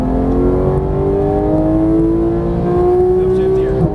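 A Porsche GT3 accelerating hard on a race track, its engine note rising steadily in pitch, loud and close throughout with a driver's voice briefly over it.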